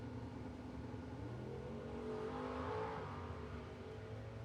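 A 1985 Dodge Daytona drag car makes a pass at a heads-up drag racing event, its engine a steady, loud roar that swells to a peak midway and then eases off as it runs down the strip.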